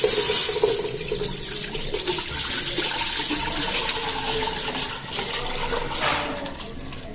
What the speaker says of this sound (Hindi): अब इसको हम पतीले में डाल देंगे